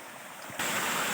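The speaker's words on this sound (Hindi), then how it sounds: "छोटी जी आबशार" A small waterfall in Kashmir pours white, cold water in a steady rushing wash, quieter at first and then jumping suddenly louder and fuller for the rest of the moment.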